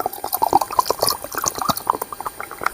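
Tender coconut water trickles and splashes into a freshly washed tin can in a series of quick liquid drips and gurgles, close by with no talking.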